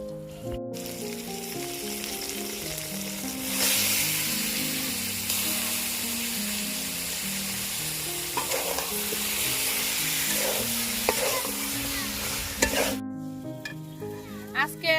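Country chicken pieces hit a pan of fried spice paste and sizzle loudly and steadily, with a spoon scraping and stirring through the curry in repeated strokes.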